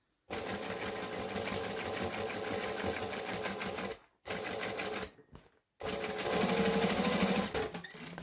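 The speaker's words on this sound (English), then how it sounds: "I'm just going to come and stitch back over this front because that's going to be a weight-bearing or load-bearing seam" Sewing machine back-stitching over a load-bearing seam at the shoulder-strap end of a fabric bag. Loud close stitching runs in steady bursts, broken by two short pauses and a brief slower stretch, with no talk.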